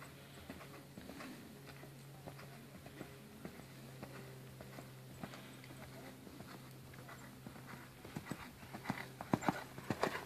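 Hooves of an off-the-track Thoroughbred being schooled over lines, heard as a steady clip-clop at moderate distance, growing louder and sharper toward the end, with a constant low hum underneath.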